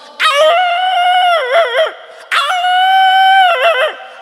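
Two long, wavering calls in a row, each a voice imitating a dog's drawn-out cry that warbles and drops at the end, loud and close.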